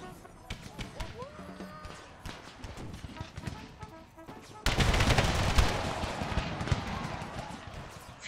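Musket volleys crackle in an Empire Total War battle, a scatter of sharp shots with a denser burst of massed gunfire from about the midpoint onward, while a voice talks over the combat.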